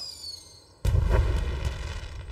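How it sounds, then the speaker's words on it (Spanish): A sudden deep boom bursts out after a quiet moment, followed by a sustained rumbling roar with crackling, like a large firework exploding overhead. "¿Fuegos artificiales?"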